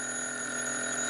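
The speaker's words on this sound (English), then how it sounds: "Then the phone rang, and I found out." An old telephone bell rings with a steady, continuous metallic trill, loud and close, alone without any voices.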